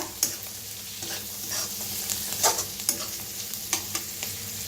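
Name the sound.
red chili powder and spices roasting in a pan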